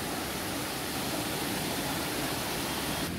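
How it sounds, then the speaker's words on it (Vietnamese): Water from a mountain stream near Thanh Long rushes steadily in a broad, even hiss, close and unbroken with no voices. "ở đây có nước trên suối chảy xuống nè, nghe gáo riết tiếng kêu của nước chảy đó nghe cô chú"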